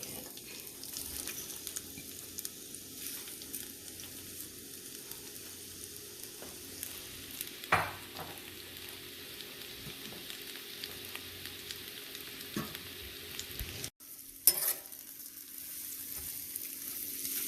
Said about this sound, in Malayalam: അതിനെ മൂപ്പിക്കാനായിട്ട് ഞാൻ എണ്ണത്തിലിട്ടിരിക്കുകയാണ്